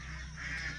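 Nasal honking of Peking ducks on a farm against a steady low background hum, one drawn-out call near and moderately loud.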